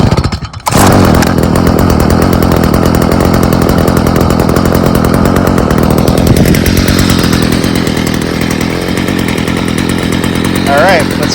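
A gas-powered lawn trimmer starts with a sharp burst and then runs loud and close with a continuous high buzzing engine whine that holds steady, with speech in the clip.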